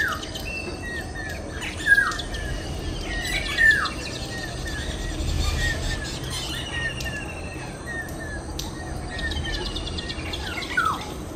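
Birds chirp and call at a quiet lakeside near a tourist lodge in Diamond Harbour, scattered short tweets and squawks near and far over a soft steady outdoor hum, with no talk.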